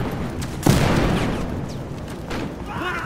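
A grenade blast in the shooter game Battlefield Hardline bursts loudly and suddenly, followed by a rumbling, crackling decay with scattered distant gunfire and game effects trailing after.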